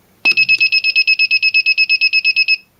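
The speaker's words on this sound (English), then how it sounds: "That wee beeping there" A laser tag prop timer emits a rapid series of identical high electronic beeps, about seven per second, steady and loud for a couple of seconds before stopping.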